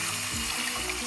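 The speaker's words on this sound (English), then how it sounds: "Run that shit under cold water." Cold tap water runs steadily into a sink over six hard-boiled eggs, a close, continuous splashing rush with no voices.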